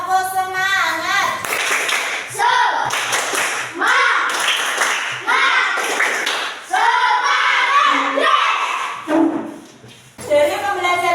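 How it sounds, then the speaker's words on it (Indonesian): A class of children performs a tepuk semangat clapping chant, with rhythmic group claps mixed with loud chanted voices in bursts, close and energetic. "Tepuk semangat."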